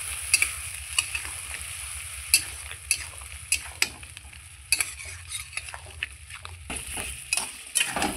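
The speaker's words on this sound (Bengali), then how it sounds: "এবার বন্ধুরা আমি মশলা দিয়ে খুব সুন্দর করে এটাকে আবার কষিয়ে নেব।" Elephant foot yam being sautéed with mustard, garlic and spices in a pan, repeated sharp scrapes and clinks of stirring over a low, steady sizzle, close and without talk.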